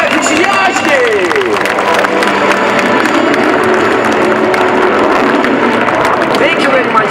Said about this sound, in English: Thank you very much for your enthusiastic applause.